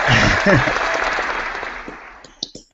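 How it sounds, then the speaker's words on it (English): A canned applause sound effect plays during a live online show, a loud burst of clapping and cheering mixed with voices that fades out over about two seconds, followed by a few isolated clicks. "Where's our applause sound?"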